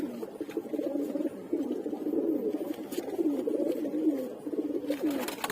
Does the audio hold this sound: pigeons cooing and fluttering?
yes